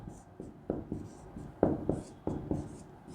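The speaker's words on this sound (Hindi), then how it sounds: "थर्ड नंबर पे लिखता हूं मैं" Chalk or marker writing on a board during a math class, with a steady run of short scratchy strokes and taps in uneven rhythm, close and fairly quiet.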